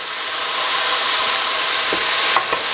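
Loud, steady sizzle of garlic frying in a pot for Cuban black bean soup, with wine and lime juice in the pan and a couple of faint stirring knocks near the end.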